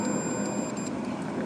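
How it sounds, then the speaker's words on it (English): A multimeter gives a thin, high continuity beep while its probes test a car starter, a steady electronic tone held throughout over light background noise. "you touch these two and you hear that little beep. That means you have connection"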